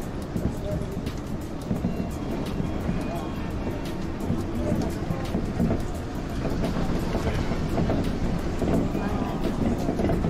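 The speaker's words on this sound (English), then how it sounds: "Monorail." Riding a monorail near Shonan, with a constant low rumble of the car on its track and wind buffeting the microphone, steady and moderately loud throughout with no clear speech.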